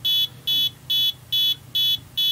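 An electronic buzzer on an Arduino Nano digital spirit level beeps in a steady repeating pattern, about two short tones per second, each a bright high-pitched buzz with brief gaps between.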